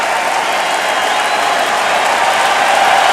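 Arena crowd at an Ohio State versus Penn State college wrestling match roars and applauds in a dense, loud, continuous wash of cheering.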